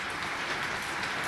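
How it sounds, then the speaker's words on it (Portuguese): Heavy rain falls in Maceió, Alagoas, making a dense, steady broadband rush with no pauses and no voices over it. "É muita chuva, chove de dia e de noite."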